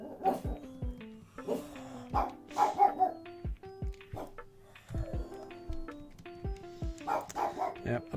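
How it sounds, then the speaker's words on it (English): Several sharp dog barks ring out indoors in scattered bursts, some close and loud, with a few softer yips between them and faint background sounds. "apologies for the barking, everyone."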